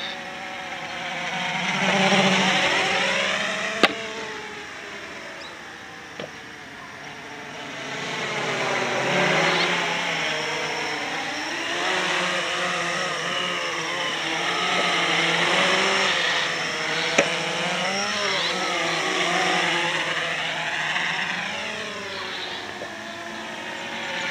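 Blade 350QX quadcopter flying in agility mode, a whining buzz of its motors that swoops up and down in pitch as the drone climbs and turns, rising and falling in loudness over a long stretch.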